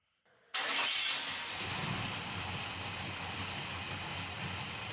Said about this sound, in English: the idle's pretty low, so I'm going to start by getting it up to where it needs to be, around 800.